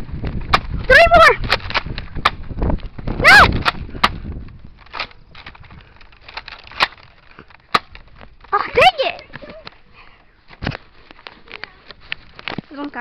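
Gunfire from a video game boss battle, sharp bursts of shots in irregular clusters with pauses between, mixed with excited voices talking and shouting up close.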